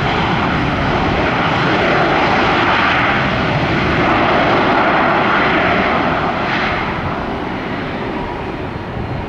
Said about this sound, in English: Airbus 320.